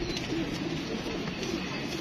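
Pigeons cooing amid a dense, continuous background of other birds and noise, the soft coos blending into a steady wash rather than standing out alone.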